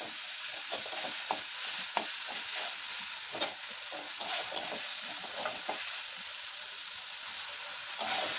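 Spice paste with sugar sautéed in a pan for borboti chingri ghonto, a constant soft sizzle with light, irregular spatula scrapes and taps close by, no voices.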